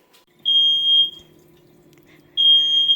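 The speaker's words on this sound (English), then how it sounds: "The fire alarm just started going off." A kitchen smoke alarm beeps in two loud, piercing high-pitched bursts separated by a pause, with a faint low hum underneath, while oil heats for frying funnel cakes.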